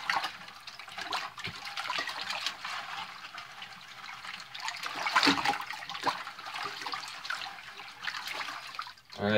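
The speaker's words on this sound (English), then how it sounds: "So now I'll just start by stirring this with my hands" Hands stirring a beaver tail tanning solution in water, a steady sloshing and swishing of liquid with small splashes and trickles, close and continuous throughout, no talking.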